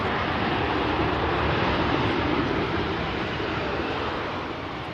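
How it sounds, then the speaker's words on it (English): A Boeing 787 Dreamliner airliner passes overhead near Manchester Airport, a steady, loud broadband jet roar that holds for the whole stretch and eases only slightly toward the end, with no voices. "Here we go, 28 Dreamliner heading over to Melbourne."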